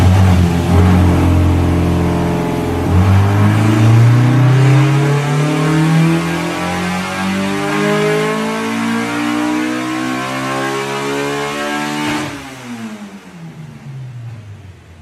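A Honda K20 engine in a DC2 Integra racecar revs hard on a dyno, loud and close, its pitch climbing steadily through the gears for about twelve seconds before the throttle drops and the engine winds down.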